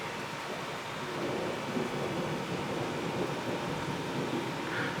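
Rumbling thunder rolls through a thunderstorm with close lightning strikes in southeastern Pennsylvania, a continuous low roar over steady rain, fairly loud and unbroken for several seconds with no voices.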